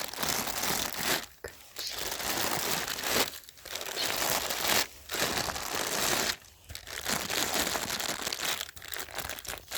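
Loud, continuous crinkling of a crunchy reflective sleeping bag with reflectors inside, shifting close by at a campsite, broken by several brief pauses.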